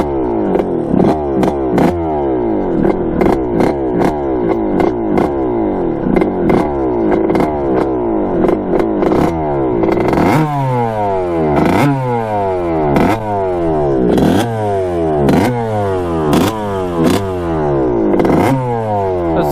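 A vintage Kawasaki two-stroke dirt bike engine runs rough and loud up close, surging and bogging in a rapid uneven rhythm of repeated revs that pulse roughly once a second, with no talk over it.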